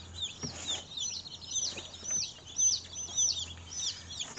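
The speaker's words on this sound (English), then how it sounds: "And these are our meat birds." Baby meat chicks peep and chirp steadily beneath a heat plate, with many high, overlapping calls close by and a low hum running underneath.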